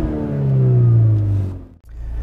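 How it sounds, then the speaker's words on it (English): A car engine fitted with an APR Motorsport launch limiter revs hard and holds against the limiter with a steady droning buzz, loud and close, before cutting out abruptly and settling back to idle. "rev the engine till it stops on the limiter, and you should see boost begin to build"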